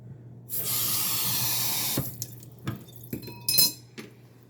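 A kitchen sink's hot water faucet gushes in a strong, hissing stream for about a second and a half and then shuts off. A few sharp clicks and handle knocks follow, close up in a quiet room.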